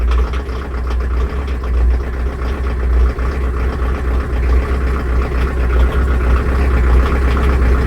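A digging machine's engine idles while warming up, with a loud, steady low rumble and a fluttering, chugging pulse that holds throughout, close by and without speech.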